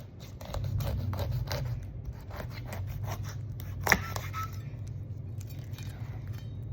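A knife slices through a whole pineapple to cut it in half. Close, crunchy scraping and fibrous tearing come through at low level, with a sharp snap near the middle.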